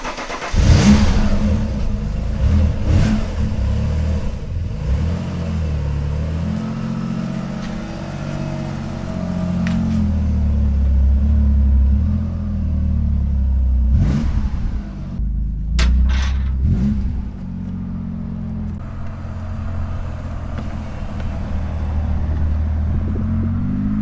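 An Alfa Romeo's engine cranks and catches with a sharp burst, then settles into a steady rumbling idle broken by several throttle blips and revs, loud and close throughout.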